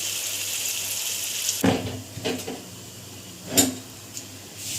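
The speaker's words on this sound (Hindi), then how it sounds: "थोड़ा सा मैं इसमें पानी ऐड करके गोश्त गलाने के लिए ऊपर से ढक दूंगी" Water is poured into a pan of chicken jalfrezi on the stove, giving a few splashing bursts and clatters over a low steady background sizzle, close by and without speech.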